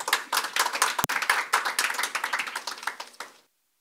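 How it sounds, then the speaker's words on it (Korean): A small audience at a citizens' forum claps to welcome a presenter, a brief burst of scattered, fairly close hand claps lasting about three seconds before stopping abruptly. "박수로 모시겠습니다."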